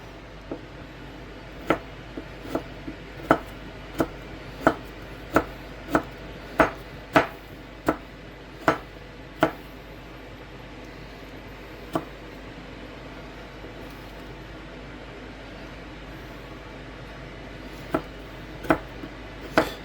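A knife chopping a block of curry roux on a board, a quick run of about a dozen crisp regular taps, then a few sparse cuts after a pause, close and quiet over faint background hiss.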